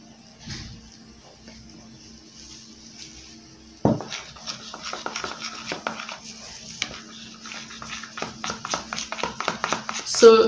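A rose water face mask paste is stirred in a bowl, with soft scraping and light clinks of a utensil against the bowl that grow busier and more rhythmic partway through, close and fairly quiet.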